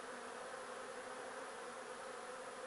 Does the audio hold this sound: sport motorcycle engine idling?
no